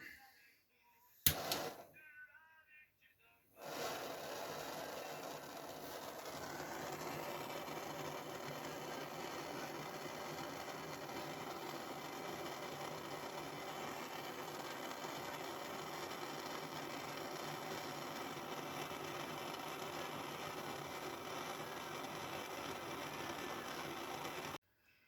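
A torch heating solder to attach small mountain shapes onto a handmade jewelry piece, a steady close hissing roar that starts after a brief sharp click and holds evenly to the end.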